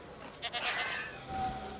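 A goat bleats briefly in the dinosaur park game Jurassic World Evolution 2, a short nasal bleat over a steady ambient game backdrop, heard alone without talk.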